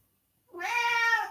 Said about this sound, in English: She'd be meowing the whole time.